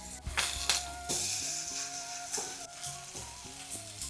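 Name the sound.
patrode (colocasia leaf rolls) frying in a pan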